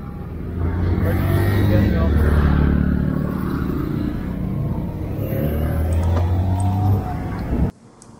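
A Royal Enfield Himalayan motorcycle runs with the throttle held open, a loud, steady engine drone with a low rumble and road noise that lasts almost to the end, with a voice talking over it.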